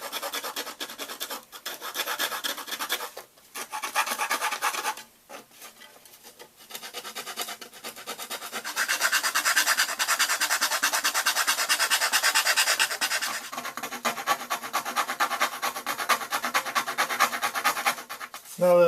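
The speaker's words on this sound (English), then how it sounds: "files, sandpaper on a craft stick, and anything else that you have, and just clean up to cut out to the line." A file and sandpaper rasp back and forth on the wooden top of an acoustic kirar while its sound holes are cleaned up, steady close scraping strokes with short pauses, then a longer continuous stretch.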